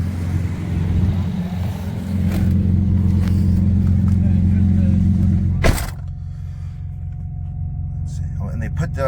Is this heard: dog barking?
no